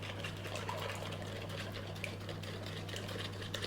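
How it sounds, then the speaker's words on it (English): An oat milk mixture with rapeseed oil is poured steadily into dry muffin ingredients for vegan lemon poppyseed muffins, a continuous close liquid splash and trickle while being mixed, with a low hum underneath. "I'm going to pour this in, and I'm going to keep mixing as I'm pouring."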